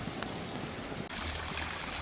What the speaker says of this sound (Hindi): ये आप देख सकते हैं कि फव्वारे लगे हुए हैं और पानी की जो आवाज़ है बहुत ही भली महसूस हो रही है